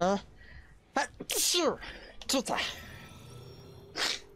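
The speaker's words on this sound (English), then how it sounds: "Gonna sneeze." A person sneezes sharply during a session of the horror game Dead Space Remake, a single burst preceded by a short intake of breath, with speech and game sounds around it.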